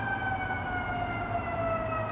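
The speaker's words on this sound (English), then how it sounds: "because it's Seattle, there's police sirens, fire truck sirens." A steady, continuous police or fire truck siren wails from a distance in Seattle, its tone holding nearly level throughout, with a low rumble of background noise underneath.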